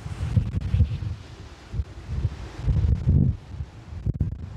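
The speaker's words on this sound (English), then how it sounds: "it's a windy one" Strong, gusty wind ahead of a big storm buffets the microphone outdoors during an e-bike ride, making a deep rumbling roar that surges and eases in waves for several seconds.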